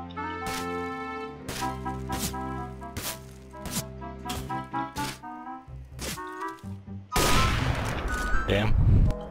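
Counter-Strike gunfire rings out as a run of sharp, evenly spaced shots, about ten in a row, then gives way to a loud, dense burst of rapid fire and noise near the end, over background music.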